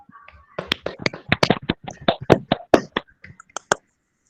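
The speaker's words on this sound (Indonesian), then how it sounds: "Tepuk tangan buat teman kalian" A fourth-grade class in an Indonesian primary school claps for a classmate: a ragged burst of many small hands clapping unevenly for about three seconds, then a few scattered final claps before it fades.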